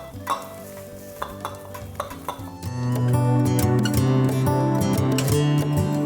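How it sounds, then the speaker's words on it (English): Crushed chili stirred into a thick paste, starting with scattered scrapes and clinks of a utensil, then settling into a louder continuous stirring and sizzling sound for the rest of the clip. "So we're going to mix that up nicely into a nice beautiful paste"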